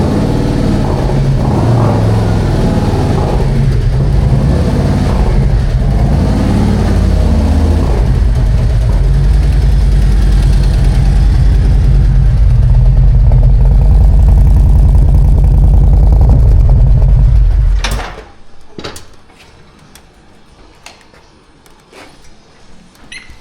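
A 2024 Harley-Davidson Road Glide CVO motorcycle idles steadily with a deep, continuous rumble for most of the span, then cuts off abruptly, leaving a quieter room with scattered clicks and handling sounds.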